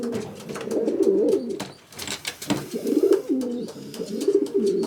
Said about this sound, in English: look at him cooing about